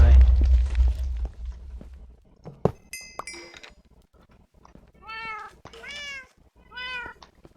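Cats meowing in a Minecraft FTB Interactions modpack game: a few short rising meows in a row near the end, after a loud low rumble and some clinking, with no talk over them.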